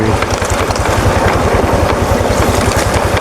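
A motorcycle rides a narrow mountain village road on Mount Telomoyo, its engine a steady, close, continuous rumble throughout with no pauses.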